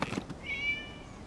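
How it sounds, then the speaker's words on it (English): A single cat meow from a video game cut scene, a short, faint, plaintive cry rising briefly over a soft background of quiet room tone. "It was just a cat."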